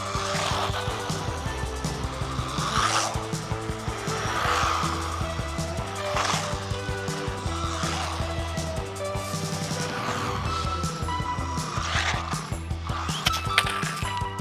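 A WLToys 244018 RC truggy runs at full throttle in a skatepark, its small electric motor whining continuously with repeated tire scrubs and skids over music.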